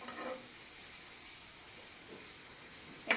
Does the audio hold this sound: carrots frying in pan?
yes